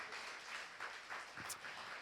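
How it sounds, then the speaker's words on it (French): A church congregation claps for Amélie at a Mother's Day service, soft and somewhat distant applause that swells and fades gently, with a few sharper individual claps standing out. "j'aimerais vraiment qu'on applaudisse Amélie"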